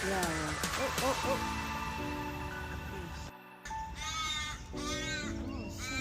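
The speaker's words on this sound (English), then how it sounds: "What is it? It's a big bird." A large bird in a Perth park setting gives harsh, repeated cawing calls in several bursts, fairly close, with people talking around it.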